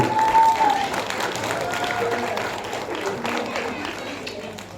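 A live concert audience at a WOŚP 2023 charity show in Lędziny applauds for Krzysiu, steady clapping sustained throughout, with a voice speaking over it at the start.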